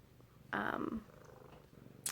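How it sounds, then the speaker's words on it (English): A house cat gives a short burst of loud, close purring that lasts about half a second, followed by quieter rustling in a calm indoor room. "sorry my cat"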